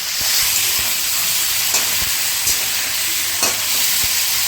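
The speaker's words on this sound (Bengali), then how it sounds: "চিকেনটা একটু ভালো করে ভাজা ভাজা করব" Chicken leg pieces fry in a pan at close range, a steady loud sizzle with occasional pops and faint stirring clicks throughout, with no talk.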